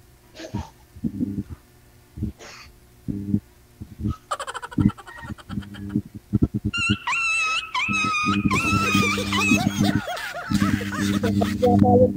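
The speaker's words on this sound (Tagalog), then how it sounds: "Yung tuta na apakan." A puppy yelps and whimpers in sharp, whining bursts after being stepped on, rising over people talking and laughing in a noisy room, with the cries growing louder and more insistent toward the end.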